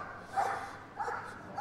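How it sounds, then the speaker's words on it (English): A young police dog gives two short, high squeaky barks during a police training display at a dog show, fairly faint against a quiet indoor background. "wait for a bark or squeak in Van's case at the moment"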